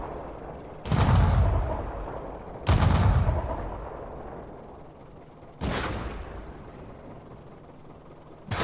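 Heavy tank cannon fire in a World of Tanks battle, three loud booming shots spaced a few seconds apart, each followed by a rumbling decay.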